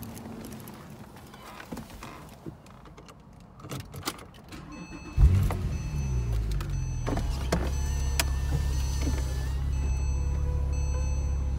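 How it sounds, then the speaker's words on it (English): A car's convertible roof retracts: a few clicks and thumps are followed by a sudden onset of a steady electric motor whine that hums on evenly and close until the end. "Put the top down and show you that with the top down."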